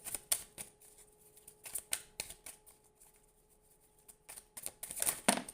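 Cards shuffled by hand for a card reading: scattered crisp, close clicks and flicks, ending in a dense, louder riffle burst, with no talking.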